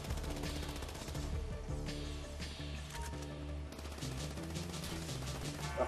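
Gunfire in Grand Theft Auto V, with rapid bursts of automatic shots crackling in close succession and short pauses between volleys, loud and continuous over a low game background.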